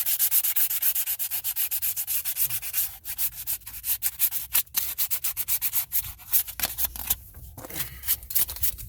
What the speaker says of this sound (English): take your sandpaper and clean this up. I'm using 800 grit